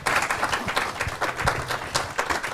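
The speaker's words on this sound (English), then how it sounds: "Let's give our speaker a round of applause." An audience at a talk applauds the speaker, a continuous patter of many hands clapping at moderate loudness, fairly close, with no speech over it.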